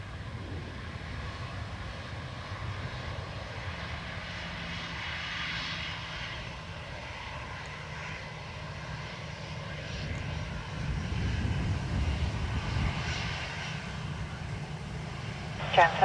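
WestJet Boeing 737 Max 8 jet departing Dublin Airport, a distant, steady engine roar that swells louder toward the end, with radio voices talking over it.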